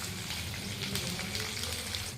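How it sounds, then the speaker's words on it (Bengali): Potatoes for a meat curry fry in a pan, giving a steady, close sizzling hiss that runs unbroken for a couple of seconds. "এদিকে মাংসের আলুটা ভাজছি"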